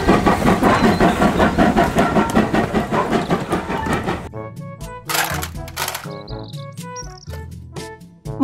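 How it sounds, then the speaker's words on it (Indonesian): A Thomas toy train runs with a dense, rhythmic whirring clatter for about four seconds, then gives way to bright electronic melody tones and beeps, close and alone. "Kereta Thomas."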